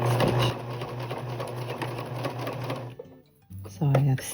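A sewing machine runs in a steady fast stitching burst while back-stitching quilt binding, pauses briefly near the end, then starts up again loudly; a voice talks over part of it.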